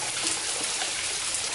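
Waterfall spray falls like a shower on a hike, a dense, steady hiss of water droplets close by with no pauses.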